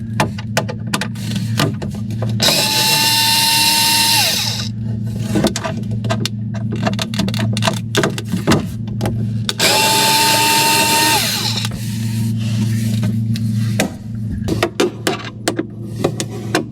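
Power screwdriver whirring in two long bursts while removing screws from a GE Monogram built-in refrigerator, each run steady and fairly close, with clicks and handling noise between them.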